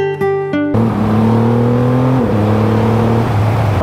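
A Harley-Davidson Fat Boy motorcycle engine rumbles loud and close while riding, a deep steady drone that shifts pitch as it changes speed, after a brief blip at the start.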